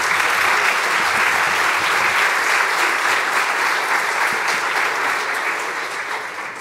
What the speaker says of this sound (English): a big round of applause, please, for the transcriber.